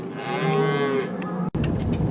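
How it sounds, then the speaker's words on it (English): Bulls blocking a desert road bellow with one long, loud, close moo, followed by a brief pause and rustling outdoor noise. "And they got the bulls blocking the road"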